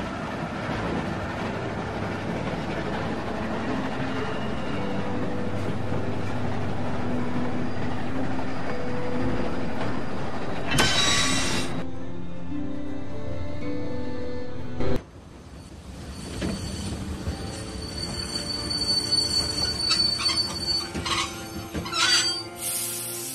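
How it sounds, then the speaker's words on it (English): A moving train in The Walking Dead video game rumbles loudly and steadily with rolling wheel noise, then shrill metallic wheel squeals rise, followed by a sudden clank and continued grinding, screeching rumble as it slows. "Stop the train, man."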